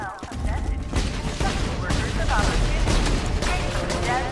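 Sustained rapid gunfire in the Borderlands 2 video game, shots fired at bulletproof statues, loud and dense bursts with booming impacts filling the whole stretch, mixed with game effects.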